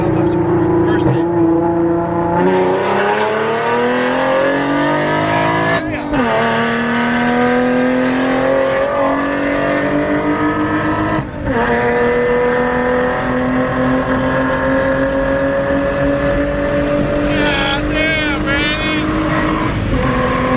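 A 3.7 V6 Mustang, fitted with a fix for heat soak, accelerates hard through the gears. Its loud, steady engine note climbs in pitch, drops briefly at each shift and then climbs again, continuing throughout.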